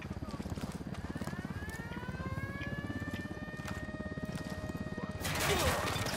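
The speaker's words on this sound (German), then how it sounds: "der Hubschrauber. Er jagt mich." An attack helicopter in the video game Ghost Recon Wildlands thuds with a faint, rapid rotor beat and a rising whine. A louder, harsher burst comes near the end.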